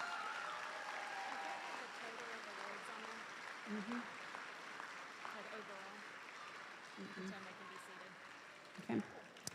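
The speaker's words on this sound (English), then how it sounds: "Let's give them a warm round of applause" Quiet, distant audience applause for students at a high school academic awards ceremony, a soft continuous clapping wash with murmured voices and a few thumps under it.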